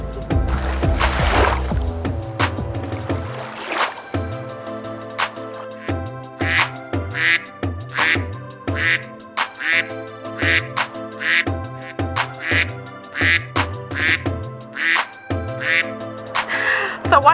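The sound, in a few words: ducks and geese calling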